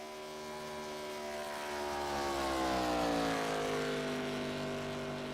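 Race car engines drone around a speedway in a racing video game, a steady tonal whine that swells as a car passes, then holds, with no voices.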